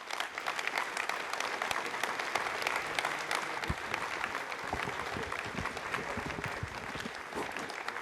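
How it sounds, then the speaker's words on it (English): Applause at the Ariane 5 launch centre after HYLAS 2 separation, a steady sustained clapping from a room of people, moderately distant and even throughout, with no other sound on top. "Well, you heard the applause."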